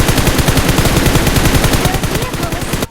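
Rapid automatic gunfire in the BGMI / PUBG Mobile battle royale game, a dense continuous burst of loud, evenly spaced shots aimed at an enemy's robot, tapering off near the end.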